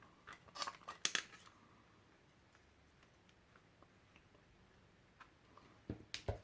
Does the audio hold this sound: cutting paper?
yes